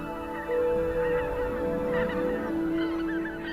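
Geese, greater white-fronted and greylag among them, call from a flock in Poland's Biebrza Valley at winter's end, overlapping honks carrying from a moderate distance with no voices.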